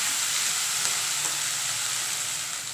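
Chopped onions sauté in hot oil for kuzhi paniyaram, giving a steady, loud, even sizzle and crackle that holds for the whole stretch with no speech and a slight fade at the end.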